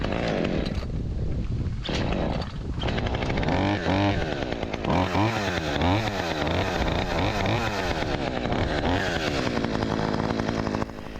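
Petrol chainsaw cutting a huge ash tree runs loud and close, its engine snarling at high revs, dipping and surging repeatedly as the chain bites into the wood, then holding a steady roar.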